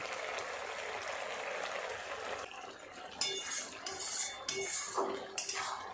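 Lid lifted off a pot of simmering mutton keema with potatoes, a soft cooking hiss followed by a run of clinking metal knocks and scrapes as the lid comes away and the pan is handled, nearby and fairly quiet.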